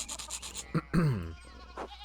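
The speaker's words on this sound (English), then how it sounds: "Classic sheep blocking the road." Sheep in the Pentiment video game giving one clear bleat with a couple of shorter bleats around it, close and moderately loud, set among light ambient game sounds.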